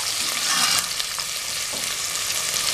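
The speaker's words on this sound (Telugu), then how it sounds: "తరిగిన ఉల్లిపాయలు వేసుకుందాం." Chopped onions frying in a pan for bhendi mutton, a steady hissing sizzle with faint stirring scrapes, close and alone.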